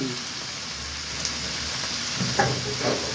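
Chicken pieces for a curry fry in a pan, giving a steady, soft sizzle and crackle with a few brief clinks or stirring sounds.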